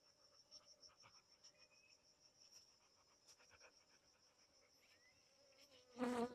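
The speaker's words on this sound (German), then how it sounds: "Die Bienen sind immer noch hier um uns herum, sehe ich." Africanized killer bees buzz around outdoors at a permaculture food forest in Paraguay, a thin steady drone with small insect whines drifting by, then a louder close burst near the end; no talk.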